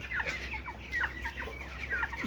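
A chicken close by, struggling to breathe, makes repeated short, strained, raspy wheezing calls about every half second.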